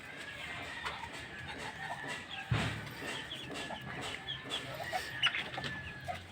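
Rhode Island Red chickens cluck softly in a busy farmyard, with scattered bird calls and a brief louder knock partway through.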